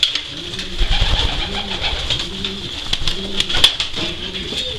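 Long-distance racing pigeons coo repeatedly up close, with soft rhythmic rolling calls overlapping through the whole stretch and a faint constant hiss in the background.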